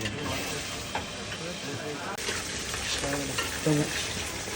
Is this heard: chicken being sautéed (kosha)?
yes